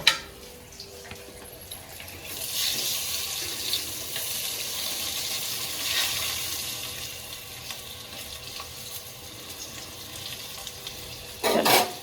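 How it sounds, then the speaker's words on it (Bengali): A steady sizzle of pointed gourd frying in a pan runs throughout, with a few scrapes and a clatter near the end. "এখানে পটল ভাজতে দিয়ে গেছিলাম।"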